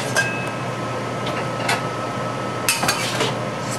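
Tofu and peas get stirred in a cooking pan, with light scraping and a few clinks of a utensil against the pan over a steady background hiss.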